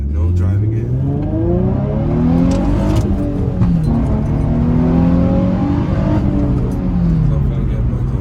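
An Infiniti G35 with modified intake and exhaust, heard from inside during a night mountain-road drive: the engine drones loudly and climbs in pitch through repeated accelerations, with a throaty exhaust note close and continuous.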